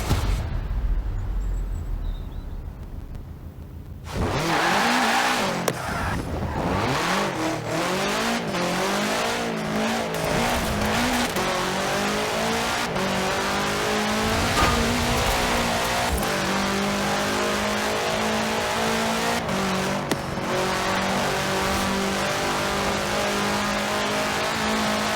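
In Forza Horizon 4, a 1966 Volkswagen Beetle fitted with a 2.5-litre flat-four turbo engine fires up after a few quiet seconds and then drones loudly, revving and climbing through gears with brief tire squeals, continuous and close throughout.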